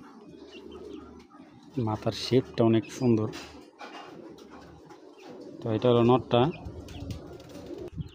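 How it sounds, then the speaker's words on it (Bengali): Black-winged pigeons cooing nearby in two bursts of rolling, throaty coos, while someone talks over and between the calls. "দেখছেন একবারে কালো বাজুর কবুতর"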